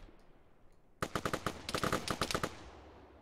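Rapid bursts of automatic gunfire from the video game Arma crack out in a quick rattling volley of a dozen or more shots, starting abruptly after a quiet moment and then cutting off.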